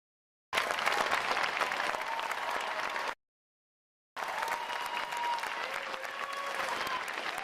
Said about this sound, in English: could I get all the veterans to please stand for a round of applause?